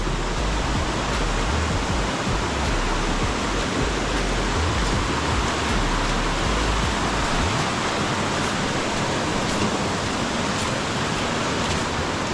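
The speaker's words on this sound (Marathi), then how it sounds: "ही नदी आहे आणि ती बघा" Steady rushing water flows without pause, a loud, dense broadband wash like a river in the Konkan running close by, with no voices.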